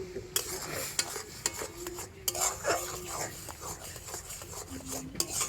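A spoon scrapes and knocks repeatedly against a pot while palm fruit pulp cooks with a little water and salt, giving a busy, close clatter over a low simmering hiss.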